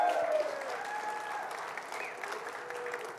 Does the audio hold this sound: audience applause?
yes